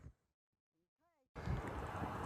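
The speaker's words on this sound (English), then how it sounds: "It's a very windy day today, and that is really good for wind energy." Strong outdoor wind in West Texas, near working wind turbines, suddenly roars across the microphone as loud, steady buffeting. It follows a brief quiet moment with faint voice-like sounds.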